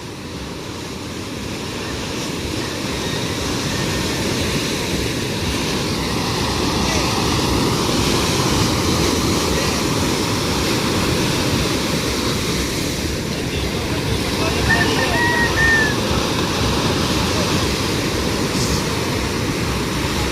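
Loud, steady roar of large ocean waves crashing and surging, with wind rushing over the surf throughout.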